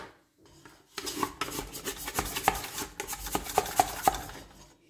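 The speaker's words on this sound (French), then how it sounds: "je vais arrêter, je vais gratter, directement la pâte." Brioche bun dough being scraped out of a mixer bowl, a run of scraping and rubbing strokes with small metallic clinks of the tool against the bowl after a quiet start.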